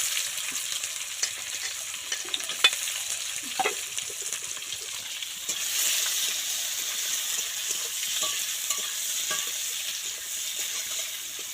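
Onion frying in a pan with bay leaf gives a steady hiss and crackle, with occasional stirring clicks and scrapes. The sizzle swells louder midway and carries on without speech.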